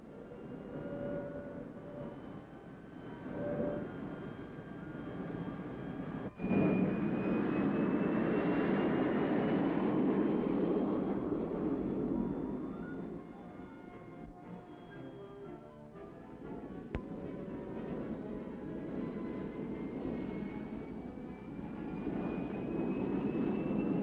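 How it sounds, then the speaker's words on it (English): A Firebird I gas turbine engine winds up with a rising starter whine that swells into a loud, steady roar, then eases slightly and builds again. "The starter begins to whine, the engine comes to life"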